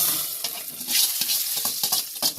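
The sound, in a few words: spices tempering and sizzling in a pan for veg kurma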